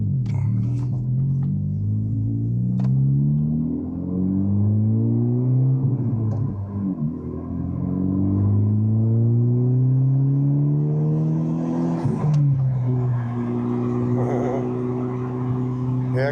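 A 2023 Honda Civic Type R driving, its engine rising and falling in pitch through repeated rev-and-shift cycles, close and loud with a steady road rumble underneath.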